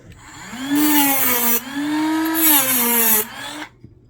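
A handheld rotary tool grinds a cross into the tip of a bit, a steady high whine that rises in pitch and loudness twice in two long passes before cutting off, with no talking.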